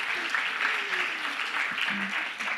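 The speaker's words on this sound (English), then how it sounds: "please give her a round of applause." An audience in a conference hall applauds as a speaker comes on stage, a steady dense clapping with a voice faintly heard underneath.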